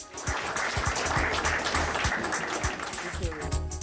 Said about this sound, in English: everybody give him a really rousing applause